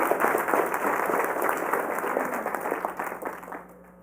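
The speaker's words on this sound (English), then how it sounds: "Let's applaud for her." Applause from an audience at a school board meeting, a dense steady clatter of many hands clapping that carries on for several seconds before tapering off toward the end.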